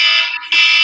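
A phone alarm blares loud and close in a shrill, steady electronic tone that dips briefly and then resumes.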